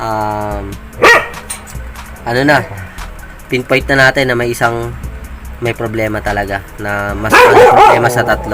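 A pet dog barks and yips repeatedly near the microphone at a home mechanic's workspace, the sharp barks breaking in between and over someone talking about a 4HL1 diesel engine injector fault.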